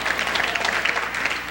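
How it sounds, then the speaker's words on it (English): Audience at a live comedy show applauds steadily, a dense crackle of many hands clapping close by without pause. "applaud yourselves, you self-righteous people"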